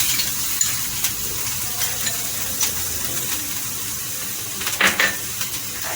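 Chopped garlic frying in two tablespoons of hot mustard oil for stuffed brinjal, a continuous close sizzle broken by a few sharp spatula clinks against the pan.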